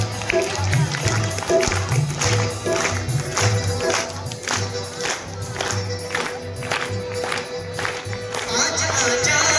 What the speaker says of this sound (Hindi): ताली बजाते रहे रिदम में।